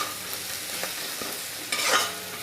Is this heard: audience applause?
no